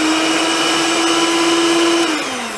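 An electric hand mixer whirs steadily through cake frosting, a loud high-pitched motor hum that drops in pitch near the end as the blades slow, with no talk.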